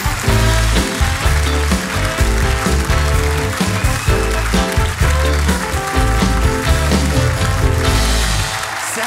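A studio audience at a German late-night comedy show applauds steadily, welcoming a guest: loud, dense clapping that fills the whole stretch with music playing underneath.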